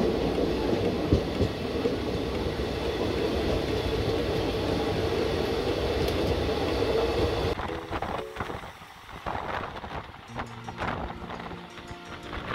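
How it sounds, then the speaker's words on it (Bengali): A fast-moving train heard from inside a carriage: a loud, steady rumble of wheels on track that abruptly thins after several seconds into sparser, uneven clattering and rattles. "দেখো ট্রেনটা কত দ্রুত গতিতে এগিয়ে চলেছে"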